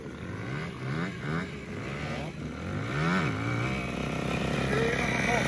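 A small moped engine revs up and down, rising and falling in pitch, close and loud with a constant droning backdrop.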